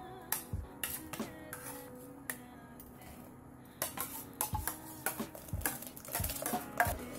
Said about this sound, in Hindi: आप जब भी इसमें चम्मच से हिलाएं तो नीचे तली तक चम्मच को घुमाएं